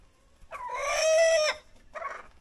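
A rooster in a rural Northeast China farmyard at dusk gives one loud, close, drawn-out crow, followed after a short pause by a brief clucking call from the same bird.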